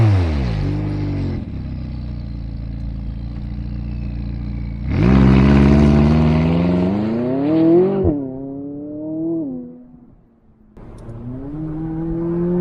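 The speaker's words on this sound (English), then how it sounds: "this POV drive of this McLaren 570S Spider" A 2019 McLaren 570S Spider driven with the top down: engine notes rise steadily through gears in repeated climbing sweeps, with a louder surge of acceleration midway, brief lifts off the throttle and a quieter cruise.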